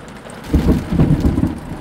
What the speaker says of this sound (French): Oh, c'est de la grêle hein.